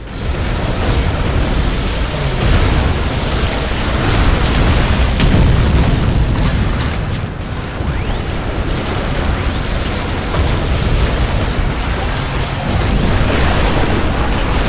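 In The Riftbreaker video game, base buildings and a tower explode and are destroyed, producing a loud, continuous roar of booming blasts and rumbling debris that lasts throughout.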